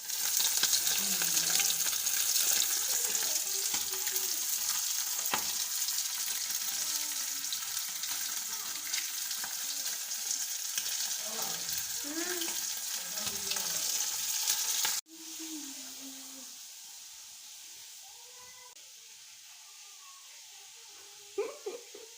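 Food sizzling and frying in a pan indoors, a steady loud hiss with scraping stirs, quieting abruptly partway through before a few clinks near the end.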